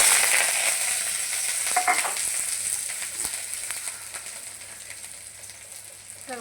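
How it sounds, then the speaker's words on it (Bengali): Nigella seeds, onion, garlic and chilli fry in hot oil in a kadai for kachki fish jhal, a loud hissing sizzle that fades slightly, with a few stirring scrapes, and no talk. "এবার একটু কালো জিরে ফোড়ন দেব, তারপরে পেঁয়াজ, রসুন, লঙ্কা এটা তেলে দিয়ে দেবো"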